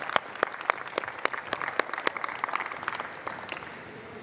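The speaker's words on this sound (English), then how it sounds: "Can we give them a big round of applause?" A small group claps at a dance coaching session, distinct sharp individual claps in an irregular burst that thins out, with a brief hiss near the end.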